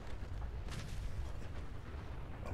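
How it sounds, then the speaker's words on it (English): Fallout 4 explosions go off in a rapid string of heavy booms and bursts, rumbling continuously with sharp cracks scattered through, and no speech over them. "Or maybe it's just a bunch of explosions."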